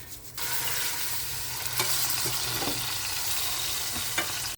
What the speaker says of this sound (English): after you've seared the roast on all sides for 3 minutes